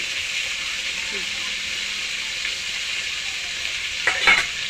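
Steady frying hiss of tomato, green chilli and ginger-garlic being stirred in a pan for a home Sunday meal, with a brief scrape and clatter of the spoon near the end.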